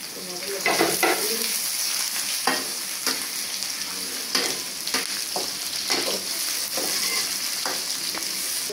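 Steady, loud sizzling of tomatoes and garlic frying in a pan, with intermittent scraping and stirring sounds throughout.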